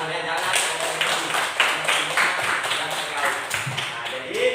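A classroom group of students clapping hands together, a dense stream of overlapping claps with a voice speaking faintly underneath.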